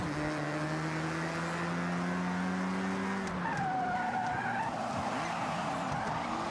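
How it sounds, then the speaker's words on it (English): A car in Forza Horizon skids through a tight corner after a handbrake tap, with a steady engine drone and then a long rising tire squeal, close and continuous. "it really does help if you tap the handbrake to get the car to rotate"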